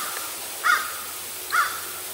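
A crow caws twice from far off in trees in Middle Tennessee: two short, harsh calls about a second apart, faint over a steady background hush.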